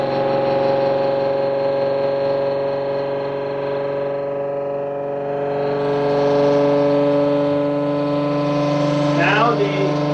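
A generator demonstration rig runs in regenerative acceleration mode, giving off a steady, loud tonal whine with several strong layered harmonics that holds throughout and swells slightly partway through.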